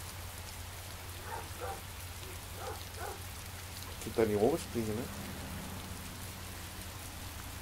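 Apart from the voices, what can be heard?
rain falling outdoors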